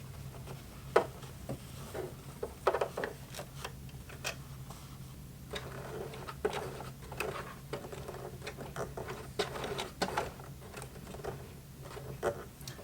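A Singer Heavy Duty sewing machine slowly pushes its needle through the stiff bill of a hat, producing faint, uneven mechanical ticks and clicks over a low motor hum.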